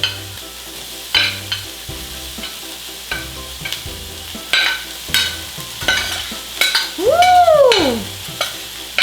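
Fried milkfish (bangus) is stirred with blended ginger, garlic and onion in a Saladmaster EOC pan for sisig, giving scattered scraping clatters over a low sizzle, with a brief whistling sweep near the end.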